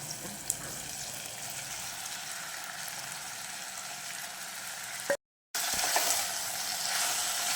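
Okra being gently stirred into a simmering tamarind curry in a pan, giving a steady close sizzle and bubbling with faint spoon scrapes, cut by a brief silent gap before the sizzle resumes louder.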